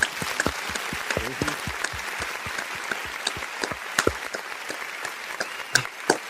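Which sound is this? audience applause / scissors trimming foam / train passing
audience applause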